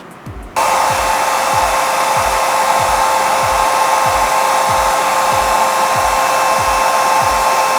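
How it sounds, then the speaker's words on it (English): A hair dryer switches on after a brief pause and runs at a loud, steady roar with a high whine, drying natural hair styled under a wig, close and uninterrupted with a faint rhythmic pulsing underneath. "blow dry it."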